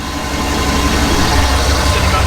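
A car engine idles steadily while warming up, a constant low rumble with broadband hiss, close and continuous throughout with no break.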